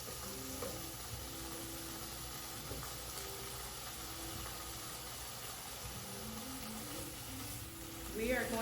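Chopped sausage sizzles steadily in a pan over medium heat at a quick dinner workshop, a continuous close frying hiss with faint background hum throughout.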